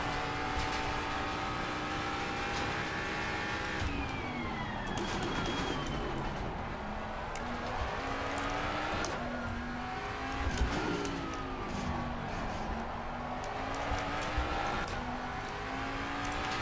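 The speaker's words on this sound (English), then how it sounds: "I hate the sound of this car in game." A race car engine in the video game Assetto Corsa Competizione drones steadily, its pitch climbing and dropping through gear shifts, with no one talking over it.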